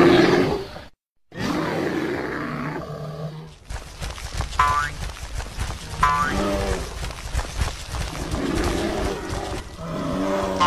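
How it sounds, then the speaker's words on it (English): A cartoon bear roars and grunts in a series of loud, rough, growly bursts over a busy animated soundtrack with boings and other effects, all close and full. "Bear."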